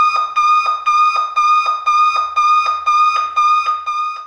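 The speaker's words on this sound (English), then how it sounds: "Settings allow you to be woken by an audible alarm." Wake N Shake alarm clock sounding its audible alarm, a loud, piercing electronic tone pulsing in a steady rapid rhythm of about eight bursts, alone and close.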